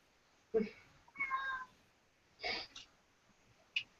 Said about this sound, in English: now my cat decided it's time to start crying